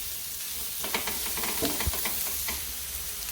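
Carrots stir-fry over a high flame with a soft, even sizzle and light stirring scrapes. The sound stays moderately close and fairly quiet throughout, with no voices.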